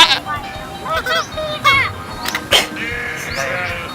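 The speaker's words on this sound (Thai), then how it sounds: "นี่เราเข้ามาอยู่ใน คอกแกะแล้วครับ" Sheep bleat in a pen, several wavering calls close by at scattered moments, mixed with people talking throughout.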